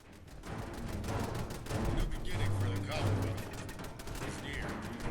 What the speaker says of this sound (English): I can hear shooting. Submit to our authority. The turrets are kicking off.